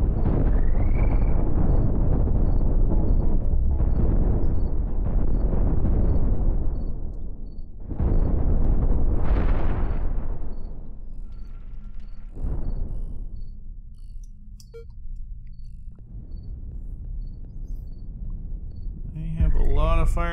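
Ship weapons fire and explosions ring out in the space game Cosmoteer, railgun-armed ship in combat: several loud booming bursts with long decaying tails, spaced a few seconds apart, fading into quieter rumble.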